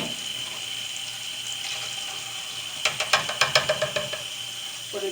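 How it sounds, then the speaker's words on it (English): Canned kidney beans and pinto beans are drained, the liquid pouring steadily into a sink, then a quick run of metallic rattling knocks from the can and strainer near the end. "I'm going to drain the kidney beans and the pinto beans because I don't want the juice in there."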